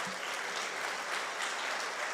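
A church congregation claps together in praise during a sermon, a dense, steady wash of applause that fills the room continuously without voices.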